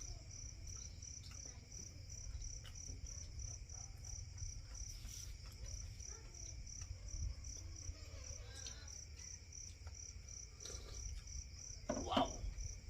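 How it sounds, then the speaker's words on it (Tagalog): Crickets chirp steadily through a quiet night, a continuous high pulsing trill over low background rumble, with a brief louder knock near the end. "Kuliglig lang marinig mo."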